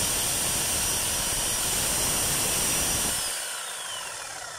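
A DeWalt D25899 power tool switches on and runs with a loud, steady, high whine for about three seconds, then winds down and quiets toward the end.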